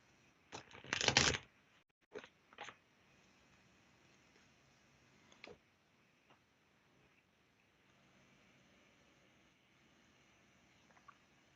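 A deck of tarot cards is riffled and shuffled close by, one dense burst of flicking card noise followed by a few softer taps and shuffles, then near quiet.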